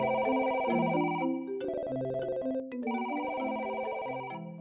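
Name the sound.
all the office telephones ringing at once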